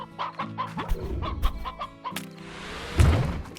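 Chicken in the video game Slime Rancher clucking in a rapid series of close, bright clucks and squawks, with a thump partway through.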